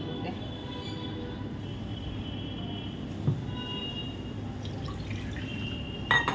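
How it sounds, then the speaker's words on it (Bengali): Water rinses out a small spice bowl in a home kitchen, with quiet trickling and dripping over a low steady background and a couple of brief splashy clinks. "এই যে বাটিটা রয়েছে মশলার বাটিটা ধুয়ে জল দিয়ে দেবো"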